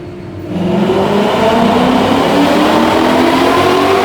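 A Ford Mustang Boss 302 engine revs hard on a dynamometer, climbing toward 7,600 RPM in one loud, continuous, rising roar that holds steady to the end.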